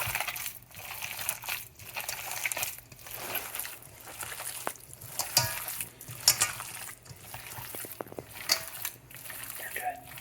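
Bare hands squelch through a bowl of ground beef and ground pork mixed with eggs, breadcrumbs and vegetables for meatloaf, a close, wet, irregular squishing that runs throughout alongside a voice.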